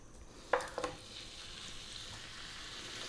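Lamb leg meat hitting hot olive oil in a pan, with a couple of sharp sizzling bursts at the start and then a steady, fairly quiet frying hiss that continues throughout.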